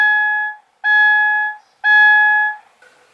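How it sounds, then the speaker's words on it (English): A Subaru Crosstrek's seatbelt warning chime, with the ignition turned on, sounds in three evenly spaced, sustained tones, loud and close, with a fainter fourth note starting at the end. "wait for the beeping to stop"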